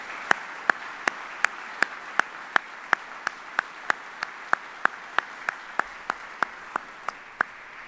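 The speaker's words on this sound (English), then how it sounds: "Please join me in a round of applause for all these incredible soldiers." Claps ring out at an Army retirement ceremony, sounding as a sparse, evenly spaced series of crisp single claps at a steady beat over a quiet hall ambience.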